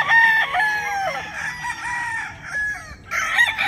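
Rooster on a game farm in Tanauan City, Batangas, giving loud nearby crows and clucks in a few bursts over almost four seconds, with other fowl calling around it.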